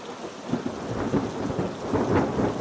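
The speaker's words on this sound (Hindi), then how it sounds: "बाहर बहुत तेज बारिश हो रही थी" Heavy rain pours steadily while deep rolling thunder rumbles through it, a continuous stormy backdrop used as a story sound effect, with no voices.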